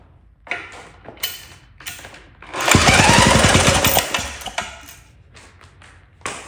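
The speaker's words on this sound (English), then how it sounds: "So I'll get the spark tester on it." A spark tester sits on a 1937 Maytag Model 92 two-stroke engine as it is turned over. Scattered knocks lead into a dense burst of rapid, sharp ticking snaps lasting about a second and a half, then a few isolated clicks.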